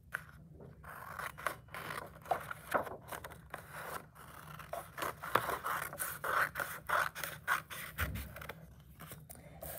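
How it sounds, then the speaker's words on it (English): Repeated crisp snips and scraping of scissors cutting through paper, close by, in an irregular rhythm with no voices. "you're going to cut off this bottom part with a pair of scissors"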